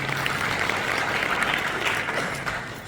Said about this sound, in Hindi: इन्होंने मातावां के लिए एक बार ताली जरूर बजा दो।